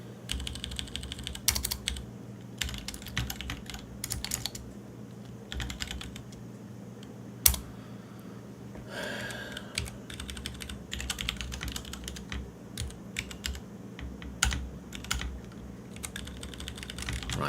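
Typing on a computer keyboard, heard as a steady patter of clicky keystrokes with brief bursts and pauses over a low hum, close and moderately quiet.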